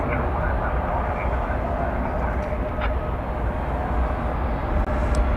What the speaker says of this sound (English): Flight 2190 to Silao, Mexico, just going through your screen there.